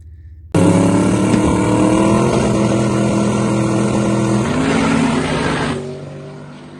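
A twin-turbo Hemi drag race car roars loud and steady through a pass, its engine note shifting pitch midway before fading out at the end, with no talk.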